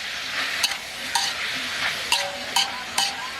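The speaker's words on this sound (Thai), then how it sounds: "แล้วก็ผัด" Pork and tomatoes being stir-fried for spaghetti in a pan, a steady close sizzle broken by about five sharp scrapes and clinks of the utensil, with no talking.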